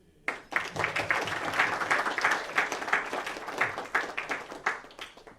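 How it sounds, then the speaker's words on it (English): Applause for past and current district leaders at a Toastmasters awards dinner, a dense crowd clapping steadily for about five seconds, fairly close and full, with no talk over it. "please give again a big round of applause to our past district leaders as well as our current district leaders."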